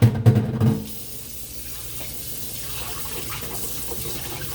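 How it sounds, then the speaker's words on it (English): Milk pours and splashes loudly into a blender for a moment, then settles into a quiet gurgling hum. "I'm going to pour the milk out into my blender."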